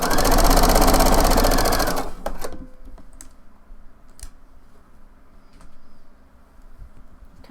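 A sewing machine stitches a twisted blouse in a burst of loud, fast, even whirring that stops after about two seconds, leaving quiet room sound with small clicks and handling noises.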